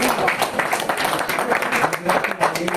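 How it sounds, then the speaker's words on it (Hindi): Applause from an audience at a gathering, a dense patter of many hands clapping at moderate loudness, with a voice speaking over it throughout. "तालियां बजाओ"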